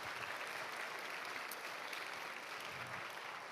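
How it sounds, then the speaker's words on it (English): A seated audience at a book festival gives a steady, dense round of applause, evenly sustained and somewhat distant. "So let's give Kentucky Humanities a big round of applause."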